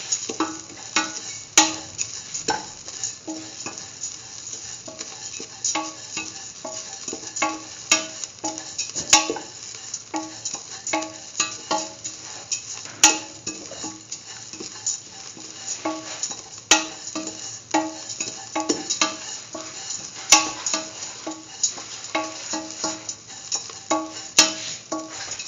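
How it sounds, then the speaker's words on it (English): Vegetables for a sweet carrot vermicelli pasta soup being sauteed in a pan, a soft, steady sizzle dotted with frequent light clicks and taps of a utensil against the pan, unaccompanied by voices. "Keep on sauteing."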